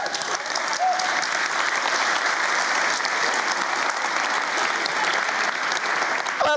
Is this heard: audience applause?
yes